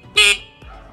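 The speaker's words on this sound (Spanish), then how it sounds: "El claxon sirve." An Italika FT 125 motorcycle horn gives one short, loud, bright beep close by, followed by a brief quiet tail.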